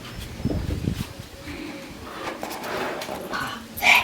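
A dog close by in a home gives soft whimpers, snorts and short yips over faint background noise, with a sharper, louder cry right at the end.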